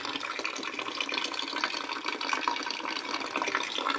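Water drains from a can through a small hole in a steady, close trickle of running and splashing liquid that holds an even level throughout, with no voices.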